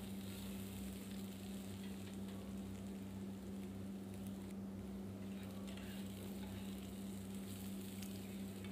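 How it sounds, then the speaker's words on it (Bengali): Okra fries in a pan with a faint, steady sizzle over a low electrical hum, and no voices are heard. "টাইম নিয়ে আমি ভালোভাবে ঢ্যাঁড়সটা ভেজে নেব"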